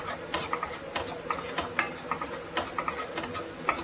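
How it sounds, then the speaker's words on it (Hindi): Semolina dry-roasting in a pan for upma, with a spoon scraping and stirring through it in quick rhythmic strokes, a gritty rasp repeating about twice a second, close and without talk. "इसको हम मीडियम आंच पे कम से कम हम 5 से 7 मिनट भूनेंगे"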